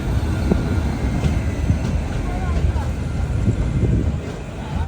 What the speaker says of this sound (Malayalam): തിരുവനന്തപുരത്ത് നിന്നും 621 കിലോമീറ്റർ യാത്ര ചെയ്ത് ട്രെയിൻ ഇതാ കർണാടകയിലെ മംഗളൂരു ജംഗ്ഷൻ സ്റ്റേഷനിലേക്ക് എത്തിക്കൊണ്ടിരിക്കുകയാണ്.